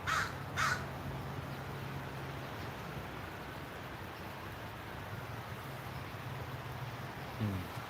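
Two loud crow caws near the start, a third shorter call near the end, over steady wind and a low background rumble in a park.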